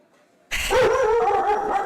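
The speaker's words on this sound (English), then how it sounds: "Sorry about the noise. The puppy's going off." A puppy bursts into a sustained yipping, howling bark after a moment of near silence. It is close and loud and carries on for over a second.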